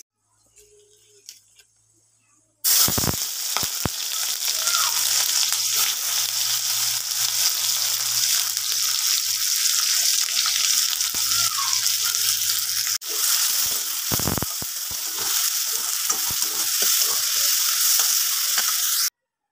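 Chopped tomatoes frying with ginger-garlic paste, onions and dried chillies in a pan give a steady, loud sizzle that starts abruptly after a quiet moment, with occasional stirring clatter.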